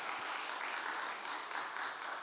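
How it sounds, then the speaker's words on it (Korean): Steady congregation applause after a musical performance at a Sunday church service fills the whole stretch, a dense, even wash of many hands clapping with no pauses. "다시 한번 큰 박수 한번"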